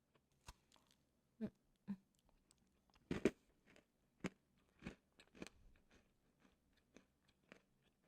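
A crunchy chocolate chip cookie that may contain pistachios is bitten and chewed up close, giving sharp, separate crunches spaced across a quiet background in an ASMR eating session.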